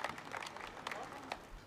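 Enthusiastic audience applause at a Hindi comedy poetry gathering, a short burst of crowd clapping heard from a slight distance with a voice faintly over it.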